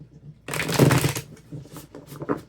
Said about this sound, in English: Get one more shuffle in.